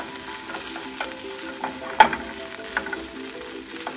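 Plantain shoots sauté with garlic in a hot pan, a steady close sizzle broken by scattered crackles and the scrape of stirring.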